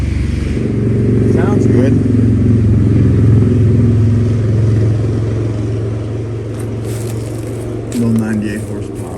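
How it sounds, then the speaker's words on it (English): A motorcycle passes along a road beside wooded land near a cemetery. Its engine rumbles low and steady throughout and fades slightly toward the end, while people talk briefly close by. "You can let that bike go by."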